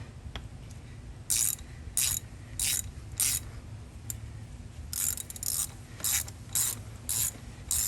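Ratchet wrench loosening thermostat cover bolts on a 150 Evinrude outboard motor, quick bursts of sharp clicking repeated in short runs with pauses between, close and distinct over a low steady hum.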